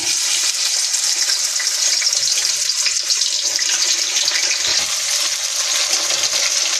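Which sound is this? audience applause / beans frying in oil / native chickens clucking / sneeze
beans frying in oil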